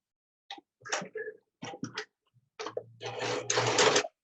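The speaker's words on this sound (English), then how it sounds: "So I'm going to go back over and re-sew over to the top corner." A sewing machine whirs in short bursts, stopping and starting, then runs in a longer continuous stretch of rapid mechanical stitching close by, sewing a fabric mask.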